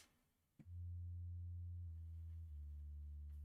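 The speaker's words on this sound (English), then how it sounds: "That is just it's just a sine wave with a little bit of this sawtooth." A synth bass preset built from a sine wave with a touch of sawtooth plays low, sustained, smooth notes, holding one pitch and then stepping to another, loud and steady with nothing else around it.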